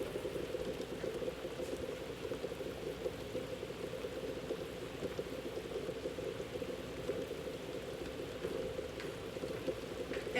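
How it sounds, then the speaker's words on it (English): Pot of water at a rolling boil for stew, a steady dense bubbling and churning that runs unbroken and fairly close throughout, with no talking. "you have to put the eggs in while it's a rolling boil like we have now"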